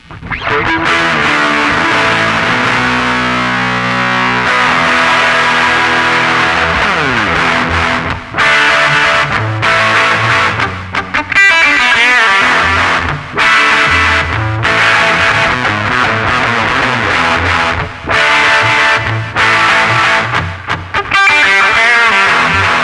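A heavily distorted electric guitar, a Dean MLX, plays loud chords and riffs, with brief pauses between phrases and a thick, saturated tone.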